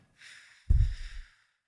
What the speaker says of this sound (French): on inspire par le nez et on va expirer les lèvres pincées